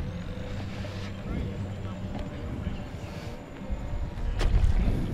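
Small HobbyZone Tecnam RC seaplane motor hums steadily while the model taxis on water at an outdoor flying event, a moderate drone with wind and background noise, swelling louder near the end.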